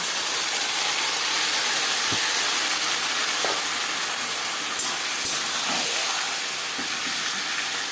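Marinated chicken dropped onto lightly fried onions in a hot pan for potato chicken curry, producing a loud, continuous hissing sizzle with a few small clacks, no voices.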